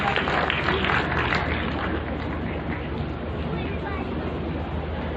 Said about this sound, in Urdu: ایک دفعہ پھر ان کے لیے تالیاں بجا دیجیے